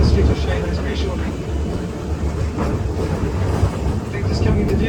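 A heritage tram rolling through Christchurch city streets, with a low steady rumble and rattle of the car running along close by throughout.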